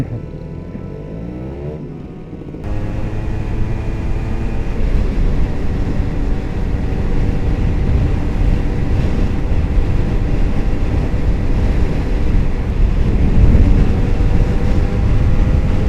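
A Kawasaki Ninja two-stroke motorcycle on its standard exhaust drones loudly and steadily for the whole stretch, its engine note climbing slightly after a brief quieter start, with no talk over it.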